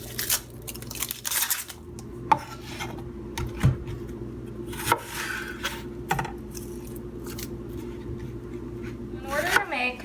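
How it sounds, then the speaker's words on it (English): A knife chops onions into small chunks on a cutting board, making a few sharp, spaced knocks over a steady low kitchen hum with soft rustling between. "You're gonna wanna take your onions and chop them into, small chunks"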